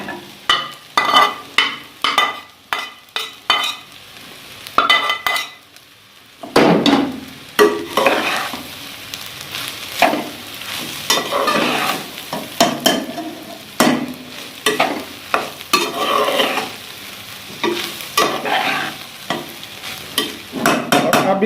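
Eggs are stir-fried for Chinese fried rice, with rapid, rhythmic spatula scrapes and clatters against the pan over a continuous sizzle, loud and close throughout.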